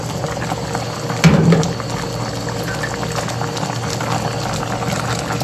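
Fish paksiw with tulingan simmers in coconut milk, giving a low, steady bubbling with a brief louder splash early on.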